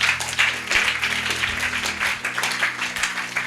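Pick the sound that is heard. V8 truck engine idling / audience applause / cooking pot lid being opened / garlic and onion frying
audience applause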